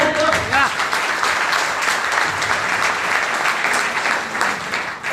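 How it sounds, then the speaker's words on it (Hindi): Audience applause fills a live business training seminar, a dense, steady clatter of many hands that stays loud and close for the full five seconds with no pause. "लेकिन क्योंकि आज ताली बजा सकते हो"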